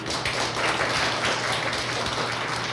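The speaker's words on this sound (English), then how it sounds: "Let's give Mrs. Miller a round of applause, please." Audience applause at the close of a school principal's community forum, a steady dense wash of clapping from a room full of people, sustained throughout without speech.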